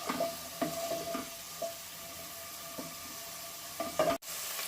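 Onion fries in a pan with a soft, even sizzle, punctuated by occasional knocks and scrapes of a stirring spoon, before stopping abruptly near the end.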